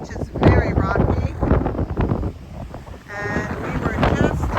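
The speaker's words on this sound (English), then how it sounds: "It is way too windy" Strong wind at a rocky beach on Crete, a gusty, roaring buffeting across the microphone that continues throughout, with voices partly heard under it.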